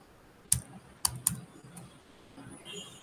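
A few sharp, separate computer keyboard keystrokes, spaced irregularly, as commands are entered in a Linux terminal during a Red Hat Enterprise Linux 9 class; the room is otherwise quiet.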